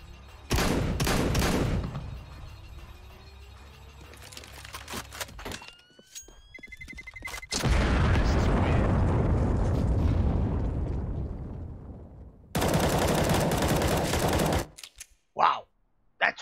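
Gunfire in a shooting video game, with loud bursts of rapid automatic shots separated by short pauses and a final sustained volley near the end.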